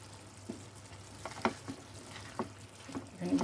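Ridge gourd curry with raw mustard oil drizzled on top, stirred in a pan: soft scraping and clinking of a spoon against the pan, several quiet separate strokes over a low simmer.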